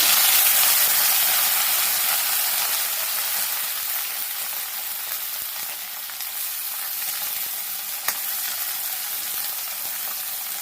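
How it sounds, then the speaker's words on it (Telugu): Okra pieces drop into hot oil and fry with a loud, dense sizzle that settles into a steady crackling hiss, with one sharp tick partway through. "ఆయిల్ అయితే వేడింది కదా ఇదిగోండి బెండకాయ ముక్కలు వేసేస్తున్నాము"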